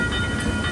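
A slow kiddie train at the Dream World amusement park in Thailand rumbles past with a steady, fairly loud mechanical drone and a faint high whine, heard alone without voices.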